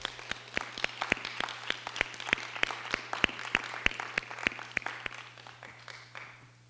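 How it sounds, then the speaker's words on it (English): A board meeting audience gives a round of applause, sparse and fairly faint, with distinct individual claps ringing out over a steady low hum, thinning out toward the end. "let's give her another round of applause"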